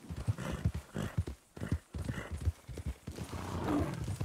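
A horse's hooves pound in a quick, rhythmic gallop in Red Dead Redemption 2 Online, fairly close and steady, with a brief snort near the end.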